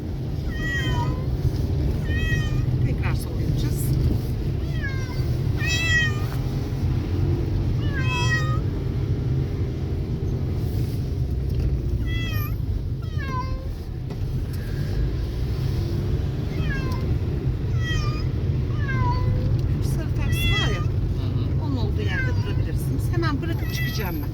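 Several cats meow repeatedly in short rising calls over a steady low rumble of traffic or engine noise, with occasional voices in the background.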